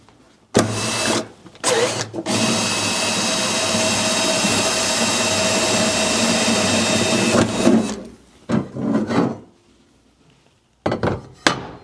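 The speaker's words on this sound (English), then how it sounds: "go through it with a hole saw with a 53mm hole saw bit" A 53mm hole saw bit in a power drill cuts a hole while fitting a water tank to a Land Rover Defender camper, with one loud, steady whining run of about seven seconds between short bursts, followed by brief stop-start spurts.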